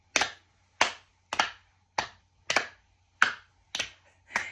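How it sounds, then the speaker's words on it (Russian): Sharp hand claps from a children's palm-clapping game, eight crisp isolated claps in a steady, slightly uneven rhythm, close and clear against a quiet room. "Стало получаться, добавляем хлопок"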